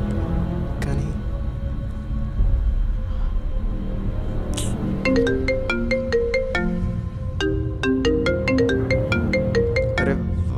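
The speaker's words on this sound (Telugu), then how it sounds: "అరే వాడే ఫోన్ చేస్తున్నాడు రా." A mobile phone rings with an incoming call, its bright melodic ringtone repeating in clear phrases over a soft musical background.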